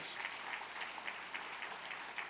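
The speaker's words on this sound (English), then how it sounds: "Give them a round of applause." Audience applause in a large event room at a county state-of-the-county gathering, a soft, distant, even patter of clapping over the whole short stretch.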